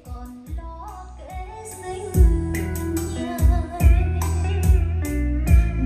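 Music from a Topping D50S 32-bit DAC playing through a home audio system, with a steady full mix of strong repeated bass beats and bright upper tones, loud and clear throughout with no talking.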